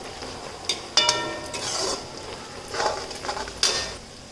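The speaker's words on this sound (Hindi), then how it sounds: "और अब हम प्याज को लाल होने तक भूनेंगे।" Chopped onions stir-fried in a pan until browned for a gram-flour curry, with a soft steady sizzle broken by several clinks and scrapes of a spoon against the pan, close and without speech.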